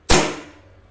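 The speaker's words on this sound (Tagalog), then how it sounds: "So, putok natin na isa." An E&C airsoft blowback pistol fires a single close, sharp crack with a brief metallic ring that quickly decays, alone with no voices.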